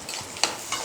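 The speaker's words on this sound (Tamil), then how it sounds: "கடுகு பொரிஞ்ச உடனே, பொரியிற சத்தம் கேட்குதுங்களா, பொரிஞ்ச உடனே வெங்காயத்தை போடுறோம்." Mustard seeds popping and onions frying in hot oil for a tomato kuruma, a soft continuous sizzle with a single brighter crackle, heard briefly up close.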